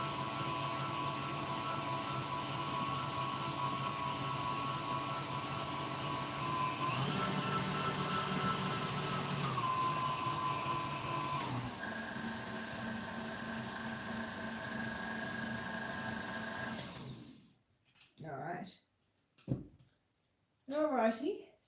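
A KitchenAid stand mixer whirs steadily while mixing cupcake frosting, its motor pitch shifting partway through before stopping, followed by a few bits of talk.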